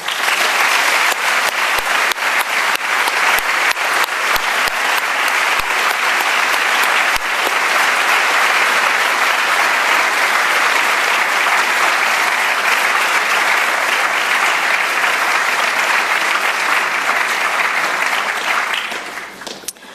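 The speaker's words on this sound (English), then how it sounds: "put your hands together with a warm applause for all of my colleagues behind the scenes" Warm, loud applause for behind-the-scenes staff at an MBA and EMBA graduation ceremony, with dense continuous clapping and a few sharper individual claps, lasting about twenty seconds before tapering off at the close.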